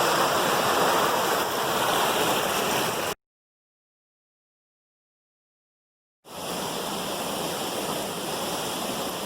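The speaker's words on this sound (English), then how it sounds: "Top of the 3rd waterfall." A waterfall in a deep canyon pours in a steady, dense rushing roar, broken by a few seconds of complete silence before the continuous water noise resumes.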